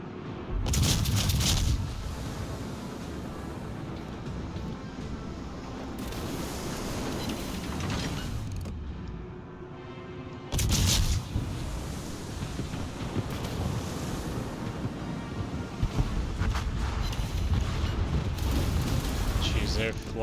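Ship guns fire in the World of Warships naval game as a few heavy booming salvos over a constant roar of sea and wind, while a player talks throughout.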